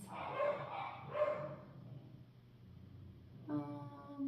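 Several close, loud barks from pet dogs reacting to a passing dog being walked, in two quick bursts, followed by a higher whining yelp after a short pause.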